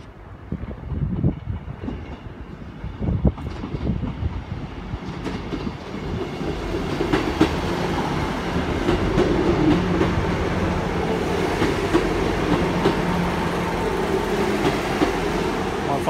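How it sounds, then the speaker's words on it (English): An IET train departing Newton Abbot station on the Great Western Main Line toward Penzance, rumbling and clattering as it pulls away, starting with rhythmic clicks and building into a steady rolling roar nearby. "And that was the service just left, going to Penzance, IET together."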